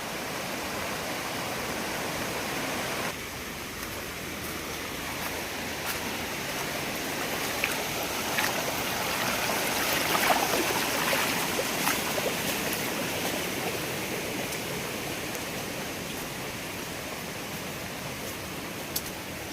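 Swollen, flooded river in Konkan rushing past in a steady broadband roar, continuous and fairly loud throughout with no voices.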